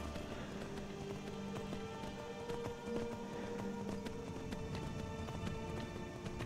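Horse hooves clop and gallop in Skyrim, a fast, even run of hoofbeats on the ground at moderate level, with faint game ambience underneath and no speech.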